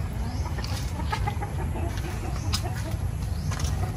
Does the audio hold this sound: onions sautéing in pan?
no